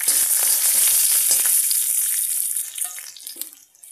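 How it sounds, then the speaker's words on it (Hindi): Loud hissing sizzle as urad dal hits hot oil in a kadai for tempering okra, crackling intensely at first and then gradually dying down to scattered pops. "तो हम अब इसमें तड़का लगा रहे हैं अपने भिंडी में।"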